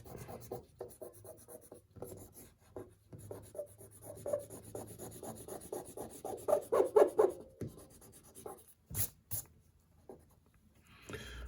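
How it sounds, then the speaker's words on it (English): An eraser rubs over pencil lines on a chibi-style drawing of Ariel, close and quiet, in a run of short scratchy strokes that grow quicker and firmer in the middle, then a few sharp taps near the end. "excess lines that we put in this drawing, including some in her tail. So let's erase all that."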